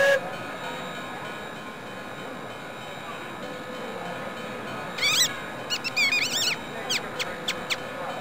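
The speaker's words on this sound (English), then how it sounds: "I'm the engineer that drives this train." Cartoon train running with a steady low rumble throughout, followed by a series of short high whistle toots in the second half, fairly loud.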